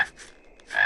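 A cartoon frog croaks in two quick, bright bursts with a short gap between, clear and close with no other sound.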